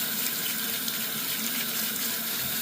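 Tap water runs steadily into a kitchen sink as chicken parts are rinsed, a continuous close hiss and splash that cuts off abruptly at the end.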